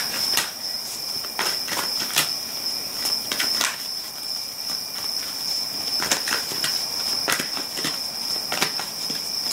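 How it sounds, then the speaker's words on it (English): Crickets chirp steadily outdoors in a constant high trill, punctuated by louder repeated chirp bursts every second or so, close and clear with no talking. "Hope you guys like the nature sounds, little crickets"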